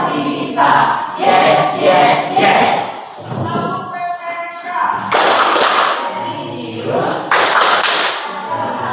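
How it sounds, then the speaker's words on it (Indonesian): A class of schoolchildren performs the PPK clap chant, loud rhythmic bursts of hand claps mixed with chanting voices, pausing briefly midway before resuming at full volume. "kita tepuk PPK dulu ya, tepuk PPK biar belajarnya lebih semangat"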